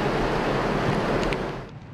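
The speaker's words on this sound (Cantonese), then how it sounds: "海水不斷倒灌。" Seawater surges in during the Typhoon Ragasa storm surge in Hong Kong, a loud, continuous rushing roar of surf and water with wind noise buffeting the microphone, easing slightly at the end.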